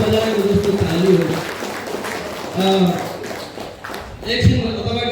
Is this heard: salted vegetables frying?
no